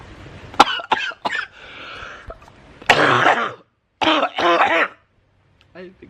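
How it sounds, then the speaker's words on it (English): Several hoarse coughs and throat clearing, close up, in bursts with short pauses between them, ending in a few weaker coughs. "I've been coughing like this for so long."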